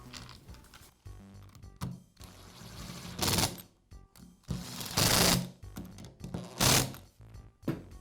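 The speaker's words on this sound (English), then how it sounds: "And I'll secure it with the screws." Screws are driven in to fix the switch cap on a Porter Cable router. Close mechanical clicking and ratcheting comes in several loud bursts with short gaps between them.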